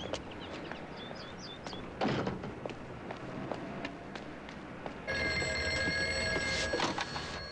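A telephone rings in a French-language drama scene, its bell tone repeating in bursts over a steady room background, moderately loud with no talk over it.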